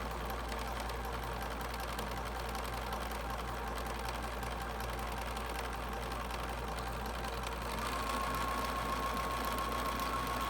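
A sewing machine stitches fabric for a heart shape at a raised speed, a continuous close, even mechanical whir with a steady motor hum that grows slightly louder partway through.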